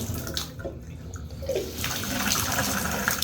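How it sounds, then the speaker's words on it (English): Water runs steadily from a tap as a continuous broadband rush, close and fairly loud, without talk over it. "So the water is on."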